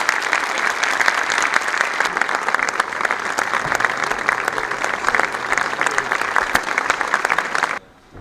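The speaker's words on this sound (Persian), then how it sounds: "خواهش میکنم تشویق ها رو قطع نفرمایید." Seminar audience applauding Brian Tracy at the Golrang Industrial Group event: dense, steady clapping from a large crowd filling the hall, sustained and even throughout before stopping abruptly near the end.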